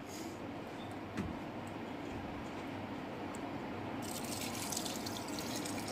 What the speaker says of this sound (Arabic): وصبيت هسه عليه الماي البارد، يعني ماي ما محميته، لا ماي بارد